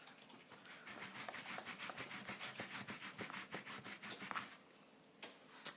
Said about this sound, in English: I find that I really do need to use my Stampin' Scrub to clean it. Try and get all that ink off.